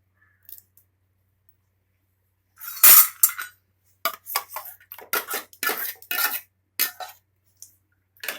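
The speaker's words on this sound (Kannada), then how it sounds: "ಇದೇ ನೀರನ್ನು ತಗೊಂಡು ಸ್ವಲ್ಪ ಹಾಕ್ಕೊಂಡು ಮಿಕ್ಸಿನ ತೊಳೆದು ಹಾಕ್ಕೊಳ್ಳಿ." Water swished in a steel mixer jar and tipped into a cooking pot while making a Kannada greens broth, heard as a run of sharp metallic clinks and sloshes after a quiet start, close and fairly loud.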